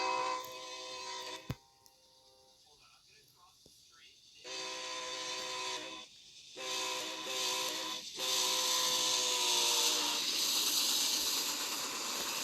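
A BNSF freight train with distributed power locomotives passes, its horn blowing in long sustained blasts over a steady rumble and hiss of rolling wagons that swells louder toward the end.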